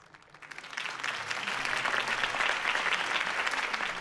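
Crowd applause at a Harvey Dent campaign rally in the Batman Telltale game, starting quietly and swelling within half a second into a loud, dense, steady ovation that holds throughout.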